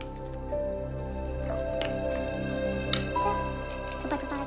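Thin, watery crêpe batter is stirred with a spoon in a bowl, giving close, continuous wet squishing and dripping with a few sharper clinks, and no talking.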